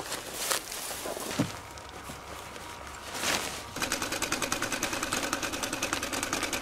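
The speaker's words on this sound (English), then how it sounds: "Is he sewing?" A sewing machine starts partway through, a steady, fast mechanical rattling stitch at moderate volume, preceded by a few scattered knocks and footsteps in a quiet room.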